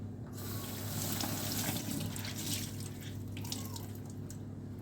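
Kitchen sink tap running steadily while something is washed under it, a close, continuous hiss of water with splashy variation throughout and no talking.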